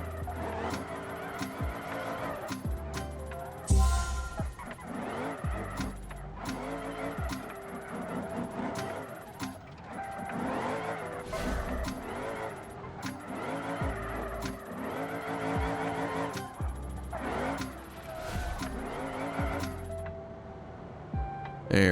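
A car engine revs continuously in a racing video game while building a track car, rising and falling with gear changes and occasional tire squeals, loud and close throughout.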